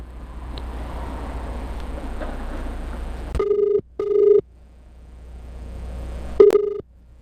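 Phone call placed by a ride-hailing rider to a customer at a drop-off waiting area: after a low steady rumble, short dialing beeps lead into a repeating electronic ringback tone, clear and fairly loud with brief gaps between rings.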